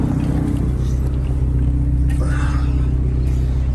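A steady, low engine rumble heard from inside a performance car on a test drive, with the heater running; the car had been leaking oil that smoked from its hood scoop. The drone holds even and loud throughout.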